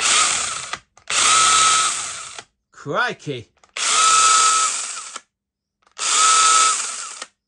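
A Makita DUC101 cordless pruning saw runs in three long, loud bursts of steady high whine, close up, starting and stopping with short gaps between, and a brief exclamation from a man in one pause.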